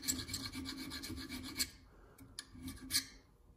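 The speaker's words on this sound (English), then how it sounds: "Take the file, just kind of smooth things out." Hand file rasping a jagged cut metal edge smooth in a garage during Celica brake work, rhythmic back-and-forth strokes, close and steady with brief pauses between passes.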